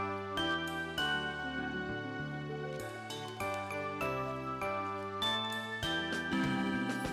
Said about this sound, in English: Ring the birthday bell.